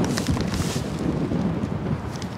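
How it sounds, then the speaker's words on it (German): Steady gusty wind sweeping across a flat roof during bitumen membrane welding work, a continuous broadband rush with fluctuating loudness and no voices. "Es ist heute sehr windig,"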